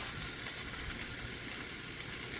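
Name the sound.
sausage patties frying in hot grease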